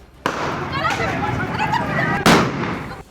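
Gunshots are fired into the air during a violent street clash between two groups in Gulaothi, Bulandshahr. About three sharp, loud reports crack out over a busy, noisy background with voices.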